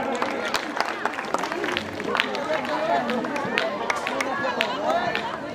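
Loud, sustained applause from a crowd at an outdoor Ramlila stage performance honouring a guest, a dense steady clatter of many hands with crowd murmur mixed in throughout.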